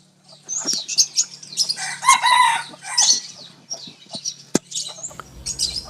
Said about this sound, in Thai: รู้สึกว่าไก่ขันดีดีเนาะ